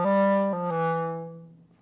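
Single piano note struck by pressing the finger down before the key, so small extra knocks follow the attack as the tone sustains and decays over about two seconds, alone without talk.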